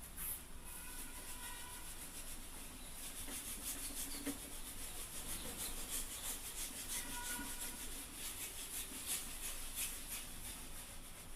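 Steady rubbing of a cloth or duster across a classroom board, continuous and fairly loud with a dry, scratchy texture throughout, no voices present.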